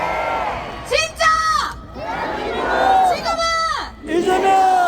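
A large outdoor crowd at a political campaign rally in Sejong City roars and chants in loud, rising bursts, with a gap of voices between swells and a leader's amplified shouts mixed in.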